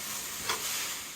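Tamarind leaves frying in oil give a brief, steady hiss of sizzling, fairly soft and close with a slight swell midway, no voices over it.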